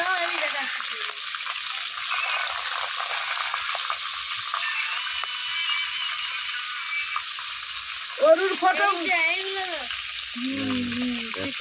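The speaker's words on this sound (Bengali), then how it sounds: "এখন ক্যাপসিকাম ভাজা হচ্ছে" Steady, close sizzling of capsicum frying in a hot pan, with a few brief voice-like sounds near the end.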